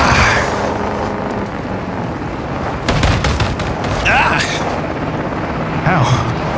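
Gunfire and explosive bursts in Call of Duty Modern Warfare 2 (2022) gameplay, with loud broadband blasts around the middle and end over a constant roar of battle noise, with people talking throughout.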